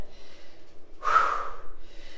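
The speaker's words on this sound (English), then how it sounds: "As you can see through my heavy breathing" One heavy, forceful breath, a windy exhale after a bodyweight workout, loud and close, with fainter breaths before and after it.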